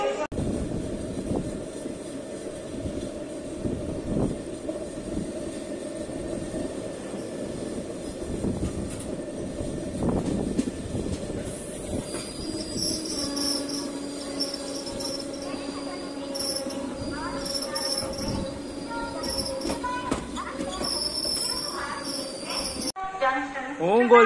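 Passenger train on the Ahilyanagari Express, Nagpur to Chennai, heard from inside the coach: a steady low rumble and rolling drone runs throughout, with insect-like high whine and faint voices mixed in.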